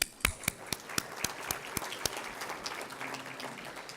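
Audience applause at a city's State of the City address, with crisp separate claps close by at first, then blending into a softer, steady patter of clapping from the crowd.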